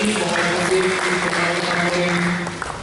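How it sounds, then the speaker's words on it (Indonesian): A church congregation at a Sunday service claps for the children, a dense, fairly loud burst of applause over lingering music tones that tapers off at the end. "tepuk tangan buat anak-anak yang luar biasa"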